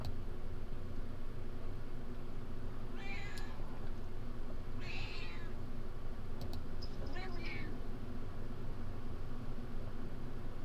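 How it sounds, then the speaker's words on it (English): A cat meows several times indoors, giving three or four short, moderately close cries over a steady background hiss. "You hear my cat?"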